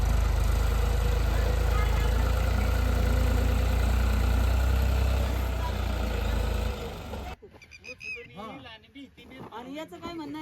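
A tractor engine running while farmland is prepared, a loud, steady idling rumble close by for about seven seconds that then cuts out, leaving people talking over faint background noise.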